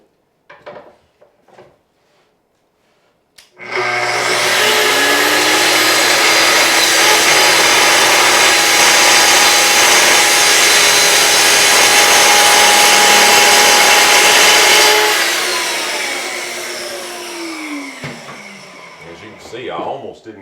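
A power saw cuts maple boards for bookshelves. A few light knocks come first, then a loud whining cut runs for about eleven seconds before the blade winds down and fades.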